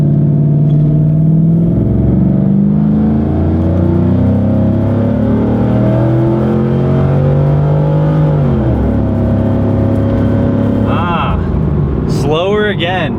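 A 2004 Chevy Silverado with an upgraded cam accelerating from 0 to 60 mph, loud close engine roar climbing steadily through gear shifts, with talking mixed in near the end.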